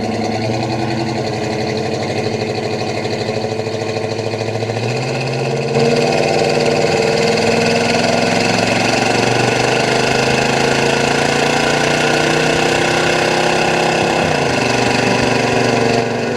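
Stock 400 V8 in a 1968 Pontiac GTO with a Turbo 400 automatic, a loud, steady, close engine drone that steps up in intensity partway through as the car gets underway, running continuously without speech.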